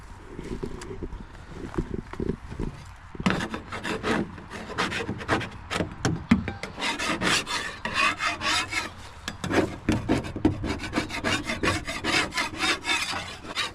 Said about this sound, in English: I'm just going to do a little scraping for today.